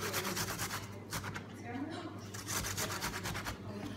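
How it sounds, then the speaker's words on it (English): An apple is grated by hand on a kitchen grater onto a board, a close, rhythmic series of raspy rubbing strokes with a brief pause partway through. "I mean it's barely grating the apple."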